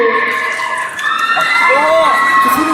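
A university crowd at a concert cheers loudly, with high, drawn-out screams and shouts over a constant roar of many voices.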